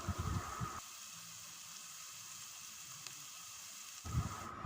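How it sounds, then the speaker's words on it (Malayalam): Finely chopped garlic and ginger sautéing in hot oil for a kanthari chili pickle, a soft steady sizzle that carries on quietly, with brief louder kitchen noise at the start and end. "നമ്മൾ നല്ല കുനുകുനാന്നരിഞ്ഞ് വെച്ചിരിക്കുന്ന വെളുത്തുള്ളിയും ഇഞ്ചിയും ഇട്ട് കൊടുത്ത് നന്നായിട്ടൊന്ന് വാട്ടിയെടുക്കണം"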